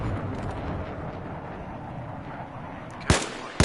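Carbine rifle shots on a Battlefield 4 shooting range: two sharp, loud reports near the end, spaced about half a second apart, over a steady low rumble of game ambience.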